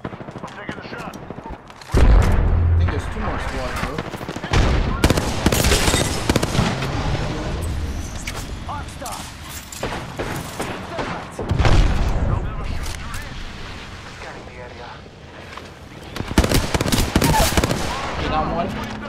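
Rapid gunfire from the Apex Legends battle royale shooter, dense bursts and loud booms layered with frequent team voice chat throughout.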